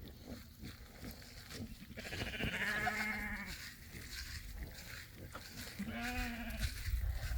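Goats and sheep bleat in a farm pen, with two drawn-out calls standing out over a steady background of barnyard noise and faint distant voices.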